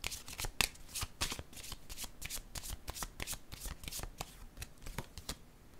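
Playing cards are shuffled steadily, a close, fairly quiet run of rapid riffles and flicks, with no talk.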